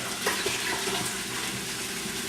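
Liquid is poured into a pot of Italian sausage and peppers soup, giving a steady, close, rushing splash that lasts the whole moment without talk.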